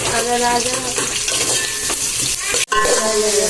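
Onions frying in a pan for biryani, a loud, close sizzle with scraping stirring strokes. The sound breaks off for a moment, then the sizzling resumes.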